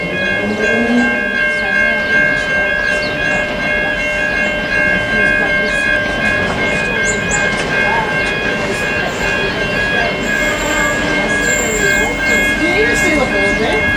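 Locomotive N455 rumbles and screeches with steady tonal whining as it pulls into South Geelong station platform on a Melbourne service, while an announcement and other voices sound over the noise.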